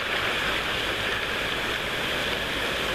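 Steady broadband rush of creek water flowing through a polluted stream channel, continuous and even without pauses, fairly loud and close, with no voices over it.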